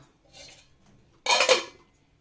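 Rui fish korma in a cooking pan is stirred, giving a soft scraping clink, then a louder clattering burst follows as the pan is covered with its lid. The kitchen is otherwise quiet and no one speaks.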